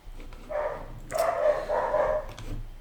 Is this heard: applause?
no